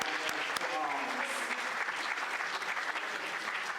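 A crowd applauds, a dense wash of clapping that holds steady and fairly loud for a few seconds.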